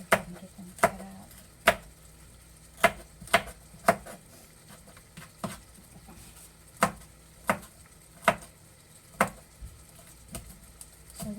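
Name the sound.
chopping celery and vegetables with a knife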